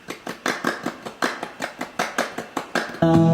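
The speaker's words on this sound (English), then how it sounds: "probably a little more noticeable would be the claps that come in right here" Rhythmic hand claps land on a steady beat within a pop song mix, about a dozen sharp hits over a few seconds, fairly prominent, before a sustained tonal chord takes over at the end.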